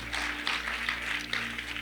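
A church congregation breaks into brief applause, a dense steady patter of many hands clapping together for a couple of seconds under a low hum.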